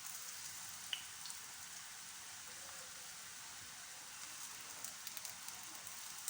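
Coriander leaf fritters frying in a pan with a little oil, giving a steady, faint, even sizzle with occasional soft pops and crackles and no voices.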